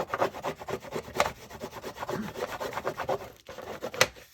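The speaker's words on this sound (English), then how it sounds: "And burnish that fold down really well." Burnishing a paper fold for a junk journal lapbook: a soft, close rubbing and scraping in quick back-and-forth strokes, steady and fairly quiet, with no voices.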